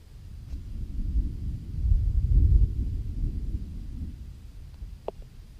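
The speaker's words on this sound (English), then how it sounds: "thunder just started rumbling a few minutes ago" A low, distant rumble of thunder swells and fades over a few seconds, with a brief faint tap near the end.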